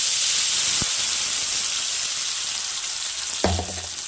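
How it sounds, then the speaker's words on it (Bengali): Something fries in hot mustard oil with a loud, even hiss that holds steady throughout, broken by one or two brief pops and a light clatter near the end. No one speaks. "এবার আমি ভালো করে এটাকে ভাজা ভাজা করে নেব, শুকিয়ে নেব"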